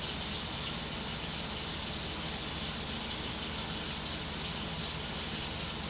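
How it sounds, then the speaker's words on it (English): Liquid mercury pours steadily into a flask under vacuum, a continuous dense rushing hiss that stays even and fairly loud throughout with no pauses or voices. "that's liquid mercury filling up this flask"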